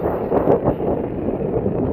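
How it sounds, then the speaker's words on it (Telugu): Strong wind blows through the high Muktinath valley in Nepal, buffeting the microphone as a steady, loud, low roar with gusty swells and no voices. "ఇక్కడ గాలి చాలా విపరీతంగా వేస్తుంది."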